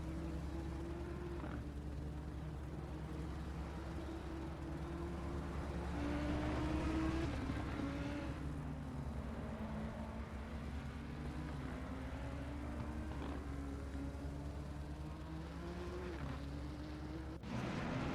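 A McLaren race car, number 141, circles in the wet at Imola during a six-hour endurance race, its engine a steady distant drone that rises and falls through gear changes, alone with no voices.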